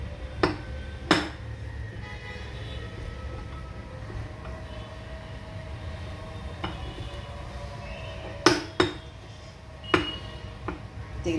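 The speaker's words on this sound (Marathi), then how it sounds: "तेलाची कढई ठेवते मी।" A metal kadhai being set down on the stove for heating oil to fry chakali, giving a few sharp metallic clinks and knocks spaced over a quiet kitchen background.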